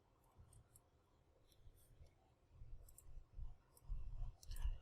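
Calculator keys are pressed during a trigonometry calculation, a few faint close clicks spread unevenly over several seconds against low background rumble, no voices.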